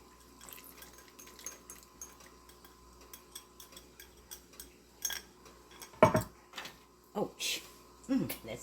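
Thickener is poured into stewed chicken in a pot, soft liquid trickles followed by sharp clinks and scrapes of a utensil against the pot, close and intermittent, with a voice speaking at times.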